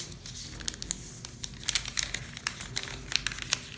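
Paper is folded, unfolded and creased for an origami rose star, giving a quick run of soft crinkles and sharp crackling taps, close up and fairly quiet, with no talking.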